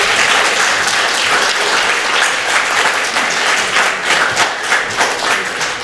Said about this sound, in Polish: Myślę, że należą się brawa.